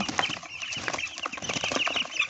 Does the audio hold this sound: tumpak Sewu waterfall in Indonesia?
no